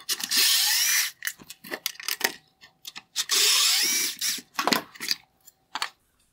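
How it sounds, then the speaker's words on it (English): A power driver removes T20 screws from a Porsche Taycan LED headlight bezel, giving two sustained close whirring bursts separated by clicks and small plastic handling knocks. "Now we can remove the two T20 screws holding on this black bezel."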